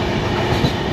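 A passenger train rolls steadily along the rails on the way from Thane to Tadoba, its continuous rumble and rattle heard up close from inside the carriage.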